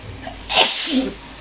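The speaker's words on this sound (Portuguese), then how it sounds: "Opa! Espirrou!" A single sharp sneeze bursts out close and loud, breaking into a quiet indoor setting during a classroom-style lesson, followed by a brief trailing vocal tail.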